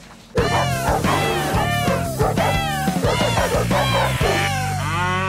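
A pet cat meows in an odd, drawn-out, almost talking way, a close, loud run of wavering calls following one another with short pauses, alone with no talk.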